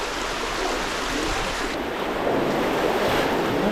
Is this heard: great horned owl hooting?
no